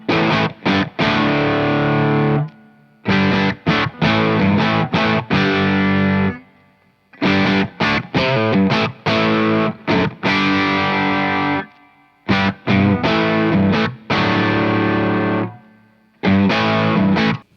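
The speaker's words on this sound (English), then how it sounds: "here's the difference in the preamp sound between the chorus and vibrato settings" Electric guitar played through a Shin-ei Uni-Vibe style pedal, switching between chorus and vibrato settings: distorted strummed chords in bursts of a few seconds, separated by short silences, loud and close, with a wobbling modulated texture.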